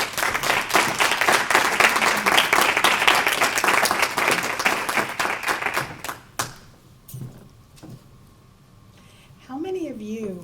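A hall audience bursts into sustained applause to welcome a guest speaker, dense close clapping that fades after about six seconds into quiet room sounds, then a brief spoken voice near the end.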